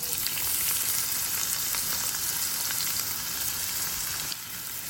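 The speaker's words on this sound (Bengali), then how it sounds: "পেঁয়াজটা ভালো করে বাদামি করে ভেজে নিব।" Onions fry in fish-flavoured oil left over from frying fish, a dense, constant crackling sizzle close by that holds steady throughout and eases slightly near the end.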